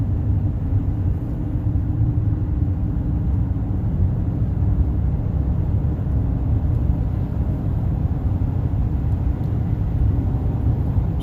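A 2011 Chevy Silverado 2500HD with a 6.0 engine and a faulty 6L90-E transmission accelerates through its upper gears, producing a steady, heavy cabin rumble and road drone that stays even throughout.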